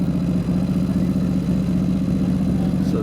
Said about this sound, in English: There's a Buell going out right now.